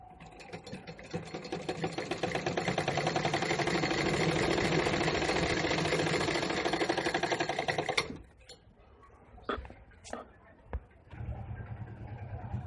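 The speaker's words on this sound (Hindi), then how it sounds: "अब ये जो देखिए हमने दोनों पार्ट्स की स्टिचिंग कर ली है" Sewing machine running steadily for about eight seconds while stitching the two parts of a katori blouse together, a dense rapid mechanical rattle, then stopping, followed by a few scattered clicks and handling knocks.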